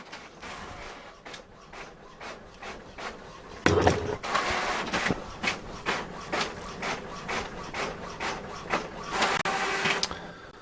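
Pages run through a printer in a dense train of rhythmic clicks and scraping feed sounds, close and steady, with a louder mechanical clunk partway through and no voices.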